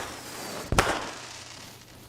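A single sharp firework bang at a 2021 outdoor multimedia production capstone event, with a brief crackling tail fading into quiet background ambience.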